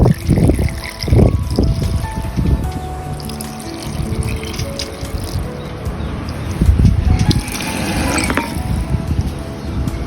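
Wine and white rum being poured over soaking fruit for Jamaican black cake: gurgling, splashing pours come in uneven bursts close to the microphone, with trickling between them.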